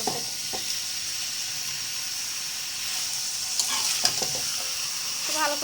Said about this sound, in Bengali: ভালো করে কষাই নিই মাংসটা